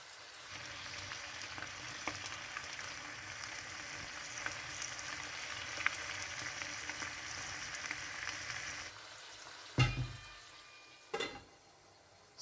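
Chicken scallopini simmers in a wine sauce with olives, a soft, even sizzle and bubbling that runs steadily, then fades near the end and gives way to a few clunks and knocks.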